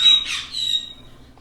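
A baby parrot squawks while being hand fed, a couple of harsh, raspy bursts close up followed by a thinner trailing squawk that fades out.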